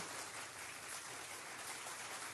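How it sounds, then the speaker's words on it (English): Applause on a talk radio show sounds as a steady, even patter of clapping hands, faint and somewhat muffled, with no voices over it. "I think it's appropriate to give a round of applause to our newsman, Bob Brown."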